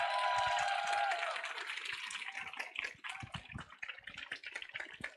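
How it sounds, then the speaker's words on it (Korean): An audience in a lecture hall gives a lecturer a welcoming round of applause, dense clapping that thins into scattered claps, with a brief musical jingle at the start. "큰 박수로 모시겠습니다"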